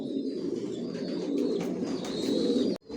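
Imported racing pigeons in a loft, a steady low chorus of overlapping cooing and soft burbling close by, ending with an abrupt cut.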